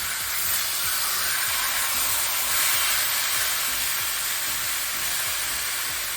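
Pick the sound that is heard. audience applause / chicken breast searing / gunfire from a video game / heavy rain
chicken breast searing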